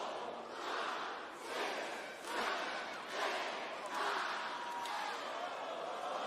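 A Boston arena crowd at a live pro wrestling event roars in sustained waves of cheering and chanting, loud and continuous throughout.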